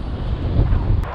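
Wind buffets the microphone in a continuous loud, low roar during a paramotor flight, with no talking.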